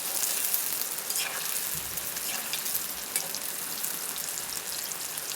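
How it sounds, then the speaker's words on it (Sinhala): Red onions fry in the same oil just used for kohila, a continuous dense crackling sizzle with scattered spattering pops at a steady level. "ඊළඟට මම කොහිල බෙදගත්ත තෙල් එකටම රතු ලුණු ටිකක් මේ විදියට එකතු කරලා විනාඩියක් වගේ තියලා ඉක්මනින් තෙල් එකෙන් ඉවත් කරගන්නවා"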